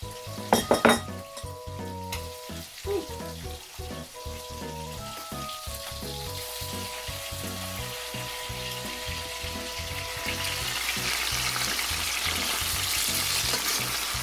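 Chicken fillets seasoned with Himalayan pink salt fry in very hot oil, a loud steady sizzle and crackle close by, with a few clinks of utensils early on and the frying swelling louder toward the end.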